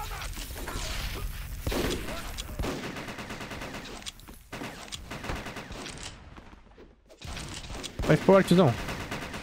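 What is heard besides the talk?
rifle gunfire in video game MicroVolts Recharged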